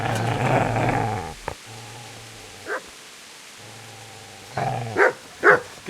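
A dog in Kingdom Come Deliverance barks and growls, a low rumbling growl at first, then sharp separate barks with quiet gaps between them, close and clear.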